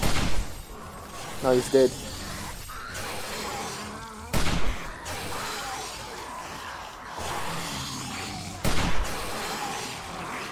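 Gunshots in the video game 7 Days to Die, fired at a feral zombie: a few loud, sharp bursts spaced several seconds apart, with someone talking between and over them.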